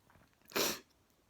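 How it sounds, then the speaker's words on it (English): A single sharp, breathy sneeze bursts out close by indoors, loud against near silence and lasting well under a second. "I just come inside and I started sneezing."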